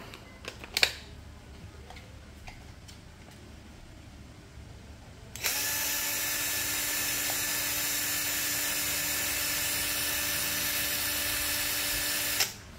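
A Stanley STDC-041LB cordless impact driver runs steadily at full speed with no load, a loud, even whine that starts abruptly after a few seconds of quiet handling noise and holds constant until it stops.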